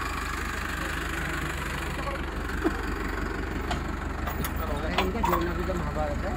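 A Mahindra 555 Ultra 2020 tractor idles steadily with a tiller hitched on a farm field, its low engine rumble constant and near while people talk over it.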